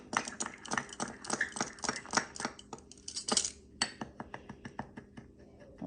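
Seasoning being stirred into food in a bowl, with a utensil tapping and scraping against the dish in a quick, irregular run of close clinks and scrapes, with no talking.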